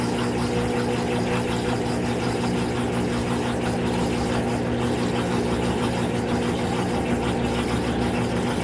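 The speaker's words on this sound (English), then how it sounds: "this thing boasts about an 850 RPM spin." A washing machine rated for an 850 RPM spin runs through its casual cycle with a steady, loud droning hum and rumble that holds constant the whole time.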